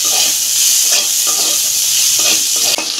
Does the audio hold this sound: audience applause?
no